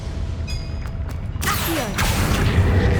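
A Confringo fire spell blasts in Hogwarts Legacy: a few faint clicks and mechanical ticks give way to a sudden loud whooshing burst that rumbles on with fiery crackle.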